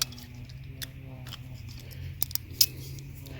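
Handheld PVC pipe cutters work on a PVC irrigation pipe for a raised garden bed, giving a few faint, close ratcheting clicks and a sharper crack near the end over a low steady hum.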